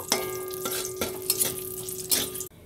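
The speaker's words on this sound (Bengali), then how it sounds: "তেল দিচ্ছি, এতে দিয়ে দিচ্ছি শুকনো লঙ্কা আর তেজপাতা।" Dried red chillies and bay leaves frying in hot oil while being stirred, giving a steady close sizzle with scraping clinks of a utensil against the pan, ending abruptly near the close.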